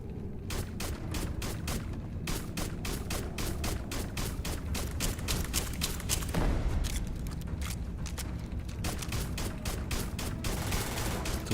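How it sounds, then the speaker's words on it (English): Turrets fire during combat in the video game Starfield. Dense, rapid bursts of gunfire and booms go on continuously and loudly throughout. "Some turrets down here."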